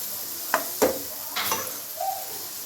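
Cut paneer sautéing in oil with chilli powder in a kadai: a few scattered stirring scrapes and soft sizzles, close but fairly quiet, with no talking.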